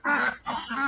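Ducks quacking near their house after bathing, three quick close nasal calls in rapid succession.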